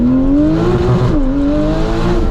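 A Porsche sports car, either the 911 GT4 RS Weissach or the 992 Turbo S, accelerates hard in first gear, its engine note climbing loud and close with a brief dip as the revs rise again.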